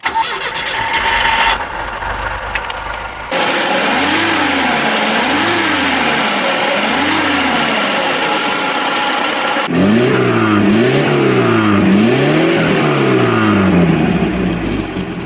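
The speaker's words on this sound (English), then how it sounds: "it's time to listen to the sounds and feel the power of the engine of this" A VAZ-2102 car engine cranks and catches, then idles and revs up and down repeatedly, loud and close, before revving harder near the end.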